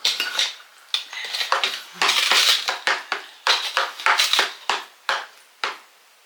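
A spoon clinks and scrapes repeatedly against a bowl while a sugar mixture for holiday sweets is stirred, giving a steady run of close, bright metallic taps and scrapes with no talking.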